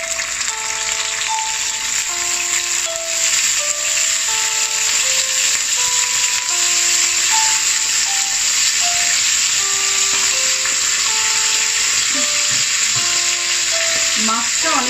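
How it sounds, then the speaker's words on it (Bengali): Dried fish, a small puti-type shutki, frying lightly in hot oil in a pan, giving a steady broadband sizzle and hiss throughout with a faint tonal hum underneath and a few soft clinks near the end. "এবার আমি মাছগুলোকে একটু হালকা করে ভেজে নেব।"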